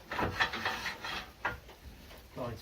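A lathe part slides back and forth along a freshly waxed lathe bed, making soft, repeated rubbing and gliding strokes that are faint and close.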